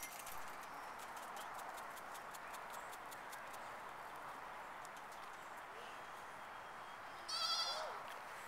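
A goat gives a single short bleat late on, over a steady hiss of outdoor background noise.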